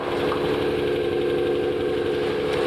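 A 1989 Nissan Skyline GT-R engine idles steadily at close range, a continuous low rumble with a slight rhythmic pulse and no voices.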